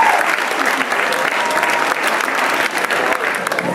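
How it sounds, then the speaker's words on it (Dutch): Loud, dense audience applause for a contestant at a hobby-themed television show, continuous clapping from a large crowd throughout, close and steady without pauses. "Applaus voor David Pasmans."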